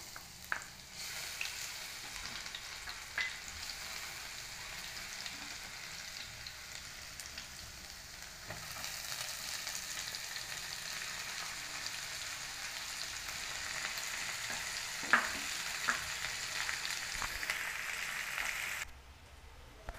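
Chopped garlic and onion frying in a pan, a steady quiet sizzle with soft crackles and an occasional utensil tap, continuing alone for a long stretch before cutting off.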